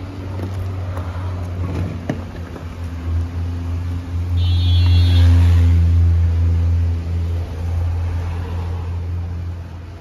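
A third-generation Lexus LS400 idles and creeps while being driven and reversed, a steady low engine hum that swells slightly mid-way with a brief faint whine, close and continuous without speech.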